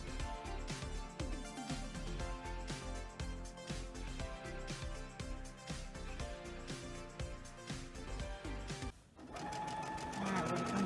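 A sewing machine runs steadily as it stitches fabric, its fast rhythmic needle clatter loud and close, briefly stopping near the end before running again.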